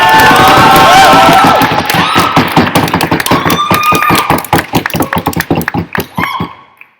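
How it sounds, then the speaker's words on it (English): A debate audience gives a round of applause, dense clapping at first that thins into scattered individual claps and fades out, with a brief voice near the start. "we will all give a round of applause"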